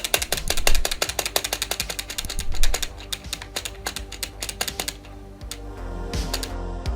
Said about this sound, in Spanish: Las teclas funcionan de manera silenciosa y elástica, no se atascan.